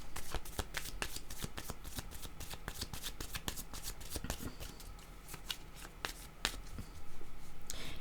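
Tarot cards being handled and shuffled close by, a dense run of crisp riffling and flicking snaps with a few louder slaps toward the end, no talking.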